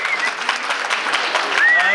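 An audience claps in steady, moderately loud applause, with a voice briefly heard over it.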